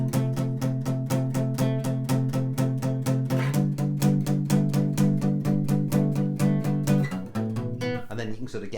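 A guitar strums a full C-shape chord in a steady rhythm of even downstrokes, ringing close and loud, with a brief change in the strumming near the end and no voice over it.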